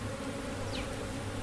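Honey bees hum in a dense, continuous buzz around a brood frame from the hive, close and steady throughout with no pauses.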